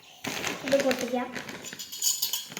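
A packet of Multigrain Chocos cereal torn open by hand, with crinkly rustling and a few sharp crackles close up, and a voice briefly heard alongside.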